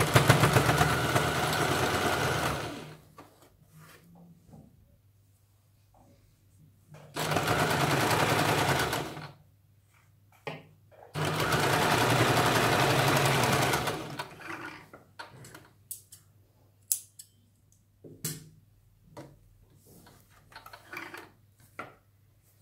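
A sewing machine runs stitches along a blouse strip in three loud, steady bursts of rapid mechanical whirring, each lasting a few seconds, with quiet gaps between them and small handling clicks near the end.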